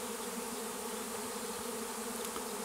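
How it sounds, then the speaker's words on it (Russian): A large swarm of honey bees buzzes in the air near a mulberry tree, a dense steady drone of many wings, close and continuous without talk. "сколько пчел в воздухе летает"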